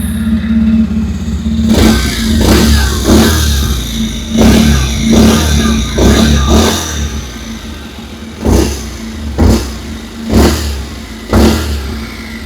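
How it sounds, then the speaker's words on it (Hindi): Close-up exhaust of a 2026 Bajaj Pulsar 125 LED headlamp variant motorcycle revving repeatedly over a steady idle, a quick cluster of throttle blips early, then spaced single revs toward the end. "अभी सुन लेते हैं एलईडी हेडलैम्प वेरिएंट की एग्जॉस्ट नोट।"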